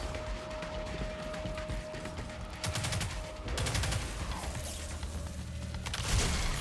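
Video game turret fire rattles in rapid bursts with mechanical clicking, moderately loud and continuous over a steady background tone, with no talking.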